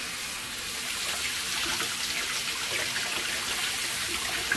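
Water running steadily over a color-changing metal car part, a soft continuous trickling hiss at moderate distance with no voices.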